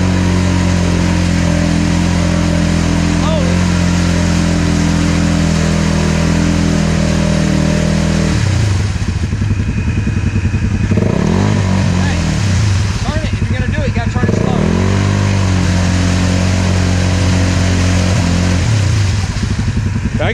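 A vehicle engine revs and holds under gas, a loud, continuous drone with rising and falling pitch as the stuck vehicle is worked free, while people shout over it.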